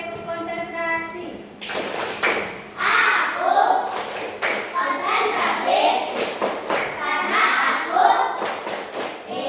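Schoolchildren in a classroom clapping in rhythm while chanting together, several loud claps and thumps in repeating phrases, up close, with voices chanting throughout.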